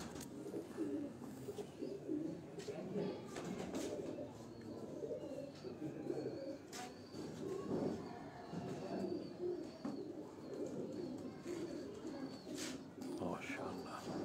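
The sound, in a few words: pigeons cooing on rooftop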